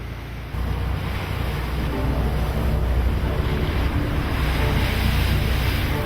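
Blustery wind sweeps over open sea aboard a Fleming motor yacht just outside a harbour, a steady loud roar of wind and rushing water with buffeting on the microphone, no voices.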